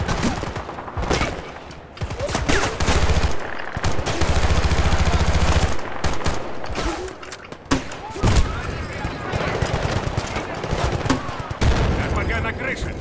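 Rapid bursts of gunfire in the video game Battlefield 2 crackle and rattle almost continuously, with sharp individual shots and booms, while voices talk over the shooting.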